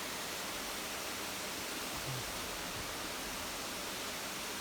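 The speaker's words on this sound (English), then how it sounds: "This is one fork of the creek." Creek water flows steadily near a bridge on a wooded mountain in North Carolina, a dense, even rushing hiss that fills the scene without pause or voices.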